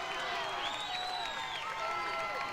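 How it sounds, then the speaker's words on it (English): A crowd at a high school football playoff game between Denton Ryan and Colleyville Heritage cheers and applauds, a loud sustained roar with whistles and whoops rising over it. "the crowd is into it here"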